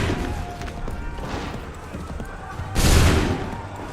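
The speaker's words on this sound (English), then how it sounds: "Prepare yourselves. Open fire." A musket volley goes off in the Assassin's Creed 3 video game, a loud, dense crack of massed gunfire that booms out near the end over continuous battle noise and rumble.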